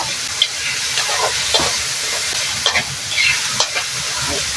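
Khanom chin rice noodles and morning glory stir-fry in a hot pan, with a continuous oily sizzle and a few scraping, tossing strokes of a utensil at irregular moments, heard close and alone.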